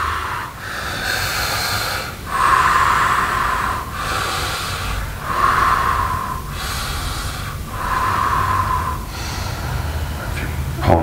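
Rhythmic breathing during a kundalini yoga kriya, with strong hissing breaths repeating roughly every one and a half seconds in a steady cycle, close and fairly loud, with no talking over them.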